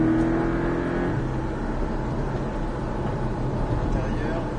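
A Porsche Cayman 718S Sprint Racing accelerating on the Mettet circuit: a loud, steady engine drone heard from inside the car, pitch holding then dropping as the gear changes, with a voice talking over it.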